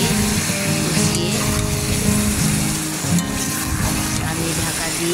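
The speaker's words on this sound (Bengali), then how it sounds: "এবারে মশলার সঙ্গে কষিয়ে একটুভাবে নেড়ে কষিয়ে" Chicken is sautéed with spices for doi chicken, stirred in a pan under a loud, continuous sizzle with irregular scraping strokes close by.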